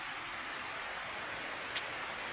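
Heavy rain makes a constant, bright hiss like a wash of static, even and unbroken throughout, with one brief sharper spike near the end.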